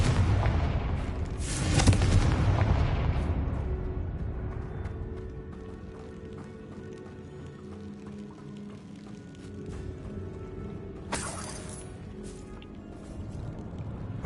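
A Confringo blasting spell goes off in Hogwarts Legacy as a loud, deep booming explosion with a rumbling tail. Quieter rumble and crackle follow, then a second sharp burst near the end.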